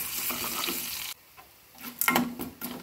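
Garlic cloves and cumin seeds sizzle and hiss as they fry in a pan for a Chettinad tomato chutney, with a spoon stirring. The sizzle breaks off briefly, then comes back with scraping and clinks close by.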